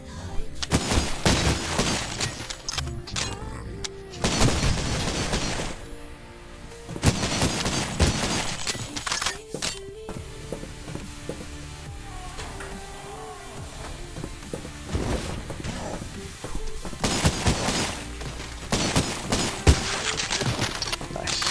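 Shotguns boom repeatedly in the retro first-person shooter Cultic. Loud blasts land every few seconds over a dense layer of game noise and music.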